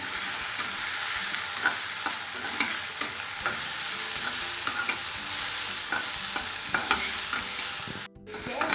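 Chopped tomatoes and potatoes fry in oil in a pan for Schezwan fried rice, a loud, steady close sizzle with occasional spatula taps, ending in a brief scrape near the finish.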